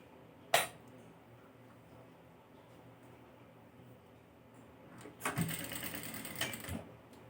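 A sewing machine stitches piping onto the neckline of a baby dress. One short burst of stitching runs near the start, then a longer run follows after a quiet stretch.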